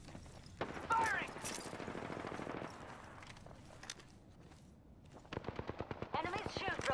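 Gunfire in the video game Apex Legends, with scattered shots early on and then a rapid, evenly spaced burst of loud automatic fire near the end, mixed with game voices and effects.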